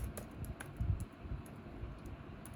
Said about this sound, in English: Why do you have to keep typing?